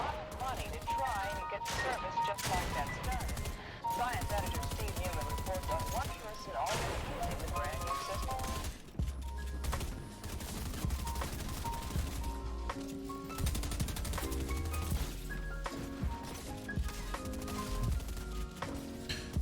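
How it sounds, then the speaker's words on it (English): Rapid bursts of gold SMG fire in a battle royale video game mix with frequent building and impact clatter, all beneath loud game music and effects, with a voice talking over part of it. "You see the bullets leak through the builds with the gold SMG, so it's really effective."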